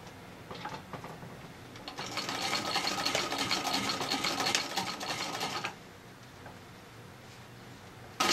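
A Singer Model 15-91 sewing machine stitching a headband for a patchwork flat cap, a few slow needle clicks building into a steady rapid whirring run for several seconds before stopping, close and alone.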